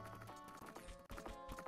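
Horse in the Zelda Ocarina of Time video game, a rhythmic run of hoof clip-clops over dense game music, fairly close and steady throughout.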